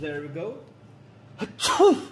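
A short, sharp sneeze bursts out near the end, close and loud, following a brief spoken phrase in a workshop while a Land Rover Range Rover Classic electric TRW servo pump is being fitted.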